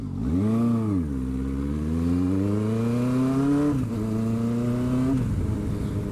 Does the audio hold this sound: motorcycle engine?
yes